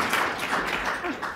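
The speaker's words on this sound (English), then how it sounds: "Round of applause for speakers." Brief burst of audience clapping for panel speakers at a clean energy expo session, a dense room of applause at moderate level.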